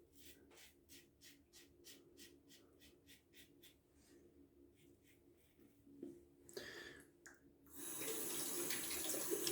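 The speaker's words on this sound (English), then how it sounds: "Razor gets spotless after every rinse." A steel safety razor being rinsed under a running tap, with short splashing bursts followed by a steady, louder stream of water close by in a sink.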